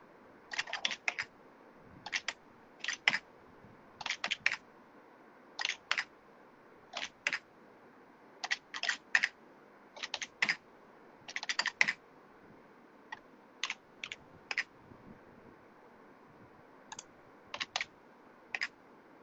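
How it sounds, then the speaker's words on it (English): Computer keyboard typing in short, irregular bursts of crisp key clicks with brief pauses between, close and fairly quiet over a low steady background hum, with no talking. "let me just type here"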